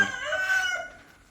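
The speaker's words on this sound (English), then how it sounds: "I have a little duck and a hen over here." Hen vocalizing inside a backyard chicken coop while trying to lay eggs, a close, steady run of clucking calls that fades toward the end, with no talking over it.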